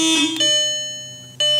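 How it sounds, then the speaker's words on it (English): A Volkswagen Passat's electronic alarm beeps in short bursts, a bright steady tone that cuts off and restarts, loud and close. "It just keeps setting the freaking alarm off."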